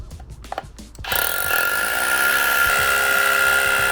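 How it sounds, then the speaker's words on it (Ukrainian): A Pro-Craft brushless rotary hammer drilling into a reinforced concrete block with a 12 mm bit: after a second of quiet handling noises, the tool kicks in and runs continuously, loud and close, with a steady high-pitched whine and hammering rattle. "І давайте перевіримо, що цей перфоратор може."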